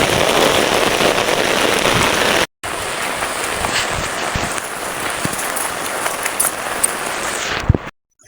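Steady heavy rain pours down outdoors, a dense, loud, continuous hiss with scattered sharper drops. It breaks off briefly once and stops near the end.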